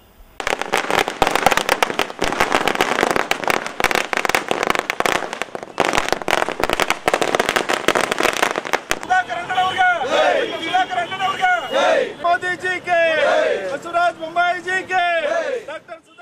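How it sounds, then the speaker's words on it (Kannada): Firecrackers burst in a rapid, dense crackling barrage for several seconds at a Chikkaballapur street celebration by SC/ST community members and BJP leaders, then give way to a loud crowd shouting and cheering. "ಚಿಕ್ಕಬಳ್ಳಾಪುರದಲ್ಲಿ ಎಸ್ಸಿ ಎಸ್ಟಿ ಸಮುದಾಯ ಮತ್ತು ಬಿಜೆಪಿ ಮುಖಂಡರು ಪಟಾಕಿ ಸಿಡಿಸಿ ಸಿಹಿ ಹಂಚಿ ಸಂಭ್ರಮಿಸಿದರು"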